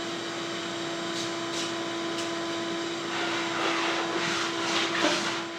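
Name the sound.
vacuum cleaner vacuuming a tiled floor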